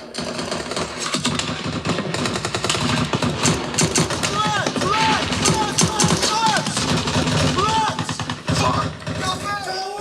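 Bursts of gunfire from the war film Warfare come as dense, rapid cracks and thuds in loud clusters under overlapping shouted voices, with short gaps between volleys.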